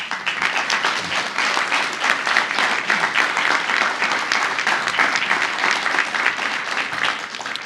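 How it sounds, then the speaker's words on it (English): A crowd at an anniversary gala applauds steadily and warmly, a dense wash of clapping that holds at an even level throughout. "if I could please get a round of applause for them"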